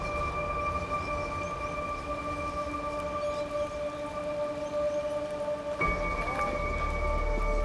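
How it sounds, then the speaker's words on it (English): Light rain patters steadily around a rugby training field, a soft continuous hiss with a faint tonal hum in the background and a dull thump near the end. "We had a bit of rain, it's okay, we'll cope with that."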